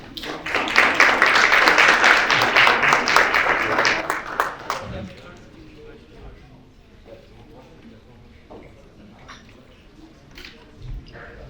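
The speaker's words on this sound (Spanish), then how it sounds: "recibamos con un fuerte aplauso" Conference audience at a Colombia–China business dialogue applauding to welcome a speaker, a loud burst of clapping for about four seconds that quickly dies away into quiet room noise with a few stray claps.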